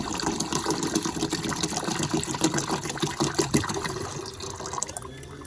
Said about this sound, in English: I'm going to go take this bottle and pour some water in there.